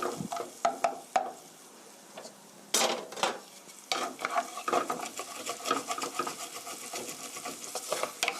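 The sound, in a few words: onion and garlic frying in a pan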